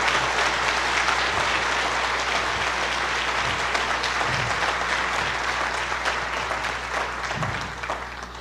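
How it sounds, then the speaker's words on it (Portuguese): A church congregation bursts into sustained applause during a sermon, a loud, thick wash of many hands that holds steady for several seconds before easing off slightly at the end. "a gente podia aplaudir Jesus agora"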